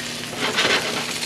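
Trout fillet sizzling skin side down in a hot pan, pressed flat and crisping, for trout almondine; a steady close frying hiss that swells briefly midway.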